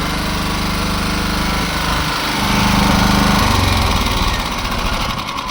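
A Champion CPG7500E2-DF-EU dual-fuel 7 kW generator runs on LPG gas, a loud close engine drone that holds steady and then grows slightly rougher and heavier, with no talk.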